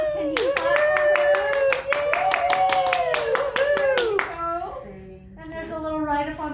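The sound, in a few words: school assembly audience clapping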